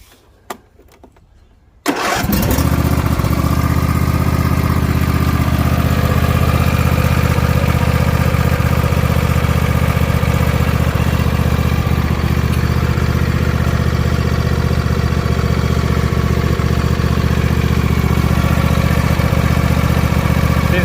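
A Craftsman riding mower engine with a newly swapped fuel pump cranks and catches after a couple of seconds of near quiet, then runs loud and steady at a constant idle, close by.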